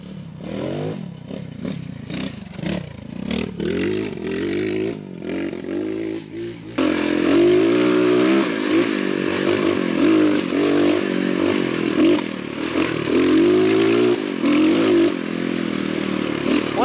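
An X Pro Storm DLX 250 dual sport motorcycle runs along with a steady engine drone, clattering and scraping over rough ground at first, then louder and more constant as it picks up speed.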